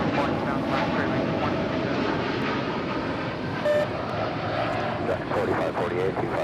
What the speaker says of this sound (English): This is United Airlines 1897 departing to Chicago O'Hare on a 787-10 Dreamliner